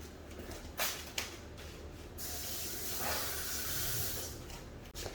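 Olive oil sizzles over a salmon fillet topped with lemon juice, rosemary and garlic, making a steady close hiss with a few sharper spits.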